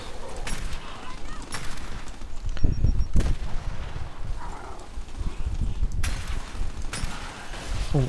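Gunfire in Gears of War 5 crackles through a co-op firefight as repeated sharp bursts over a busy low rumble, with game sounds and talk mixed in.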